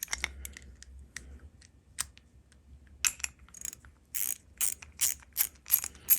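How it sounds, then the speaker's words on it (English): Ratchet clicking while tightening a 1/4 inch locking nut on a homemade scuba tank rack for a dive boat, with short bursts of close, quick metallic clicks that grow busier and louder in the second half. "I'm going to put a 1/4 inch locking nut on it to keep it"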